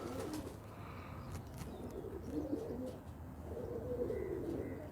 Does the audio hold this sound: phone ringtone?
no